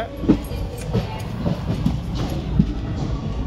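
Sapthagiri Express train at Tirupati station, a low steady rumble with rhythmic clanks of wheels over rail joints, close by and continuous.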